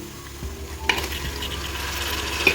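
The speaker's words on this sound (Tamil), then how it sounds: "போட்டு நல்லா வதக்கிடலாம்" Tomatoes are sautéed in a pan for a chicken biryani, giving a soft, steady sizzle and frying hiss with a couple of faint stirring clinks.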